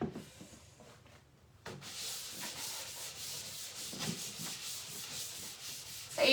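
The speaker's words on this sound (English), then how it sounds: "So you just want to scrub it down well." Steady scrubbing of a laminate surface being cleaned before painting, a continuous close rubbing sound that begins after a quiet pause and carries on to the end without talk.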